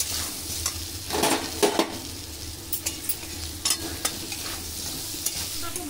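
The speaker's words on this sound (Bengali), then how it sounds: "কুমড়োটা আমি একটু ভাজা ভাজা করে নিয়েছি" Salted pumpkin pieces fry in a pan with a steady sizzle while a utensil stirs and scrapes them, giving repeated sharp clinks and scrapes over the continuous hiss.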